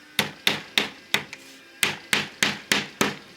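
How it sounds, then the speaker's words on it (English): A hammer drives nails through a vinyl siding strip: about ten sharp, evenly spaced strikes, loud and close, with brief ringing decays between blows and no talk. "I'm going to put a nail here, a nail in my other strip, and a nail in the end"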